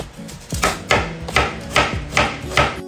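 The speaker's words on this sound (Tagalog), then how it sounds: "Iwain muna natin yung white onion." A knife slices a white onion on a cutting board, six evenly spaced crisp chops close up with no voices.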